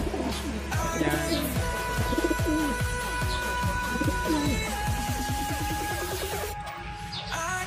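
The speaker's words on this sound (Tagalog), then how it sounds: "Yung update natin dito sa mga kalapati natin dito sa breederan." Pigeons in a breeding loft coo steadily in low, throaty, rolling calls, several birds overlapping close by, with faint chirps in the background.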